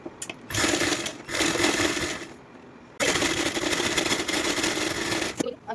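A sewing machine stitches fabric for a top in close, rapid bursts, with two long runs of stitching separated by a short pause.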